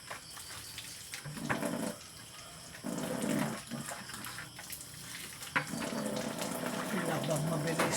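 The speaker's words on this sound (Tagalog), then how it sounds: "Labang mabilisan, banlaw mabilisan din." Water splashes and sloshes in bursts as laundry is rinsed by hand, fairly faint and close, with a voice talking now and then over it.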